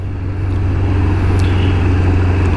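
Old 1994 Kawasaki Ninja ZX11 motorcycle riding on Florida roads near Orlando, a steady loud low engine drone with wind and road rush, constant throughout.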